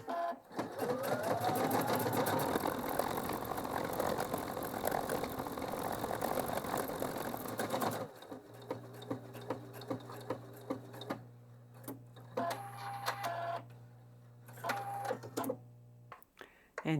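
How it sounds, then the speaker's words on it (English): A Pfaff Expression 715 sewing machine stitches out a programmed stitch combination, running in a fast steady whir up close, then slowing into a stop-start pattern with mechanical clicks and a low hum as it ties off and cuts the threads. "Okay, let's stitch it out."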